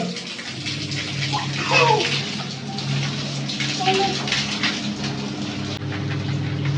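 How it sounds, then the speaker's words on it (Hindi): Water gushes and splashes steadily as children bathe at home, the running flow filling the background while faint voices and movement come and go. "बच्चे कैसे शौक से नहा रहे हैं और खुशी खुशी से"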